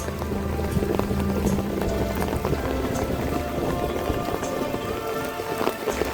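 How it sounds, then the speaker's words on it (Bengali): Heavy rain pours down steadily in a dense, even patter, with scattered louder drops and a low rumble throughout. "এখনো বৃষ্টি বন্ধ হইতে আছে না।"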